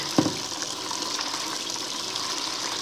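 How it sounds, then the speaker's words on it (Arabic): Hot water from a kitchen tap gushes into a dish, a steady splashing rush that starts with a brief knock and then runs on evenly at close range. "هنشغل الحنفيه على السخن. هنملى الطبقين ميه"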